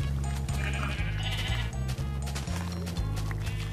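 Blocky Minecraft sheep bleat repeatedly in a steady stream of wavering baa calls over a constant low rhythmic game music bed, close and clear with no talking.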